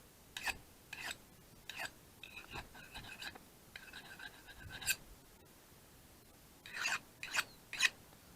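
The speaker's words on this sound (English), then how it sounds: "I just take the burr, the heavy burr off that side." A file rasps a heavy burr off an edge outdoors in the woods. It comes as short, distinct scraping strokes in quick bursts, close and fairly quiet, with brief pauses between groups.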